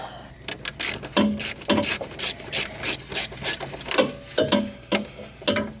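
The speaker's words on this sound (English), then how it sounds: "Take out that bolt, and then the forward one." A bolt being turned out with a ratchet wrench while an Air Lift Performance 3H height sensor is installed under a vehicle, heard as a close series of rhythmic ratcheting clicks and scrapes in short repeated strokes, without any talking.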